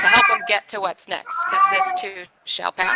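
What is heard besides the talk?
cat meowing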